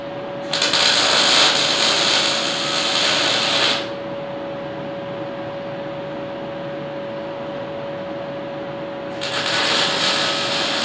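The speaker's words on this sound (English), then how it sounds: "Okay, we're going to weld these up now. Put it in the vise to make it easier." Metal pieces clamped in a vise are welded, a steady crackling hiss that runs in two long bursts with a constant hum underneath and no talk.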